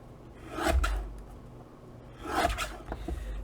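Fabric for a three-slant pocket piece is trimmed along its top, giving two soft rasping cuts or rubs about two seconds apart, close and fairly quiet with a low hum under them.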